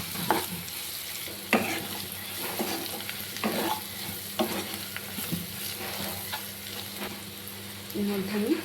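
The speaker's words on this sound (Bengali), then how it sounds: "এবার মশলাটাকে ভালো করে আমি ভেজে নেব।" Chilli, cumin and coriander powder masala frying in a pan for egg curry, a steady close sizzle broken by repeated scraping stirs and a few louder spoon knocks, with no talking.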